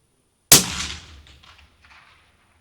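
A single sharp rifle shot from a custom 6.5 PRC hunting rifle, fired at a long-range target, loud and close, followed by a rolling echo that fades over about two seconds.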